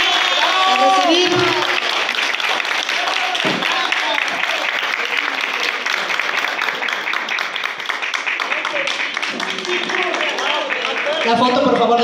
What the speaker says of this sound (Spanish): Aplausos, por favor, a la señora Antonia